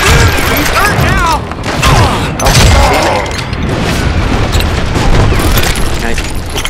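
A loud explosion in the Call of Juarez: Gunslinger game rolls into booming blasts and clattering gunfire, dense and close, with voices mixed in.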